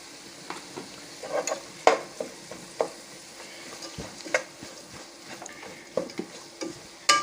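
Ginger garlic paste sizzles in a hot pan while being stirred, with steady frying crackle and repeated scraping stir strokes close by, no talking.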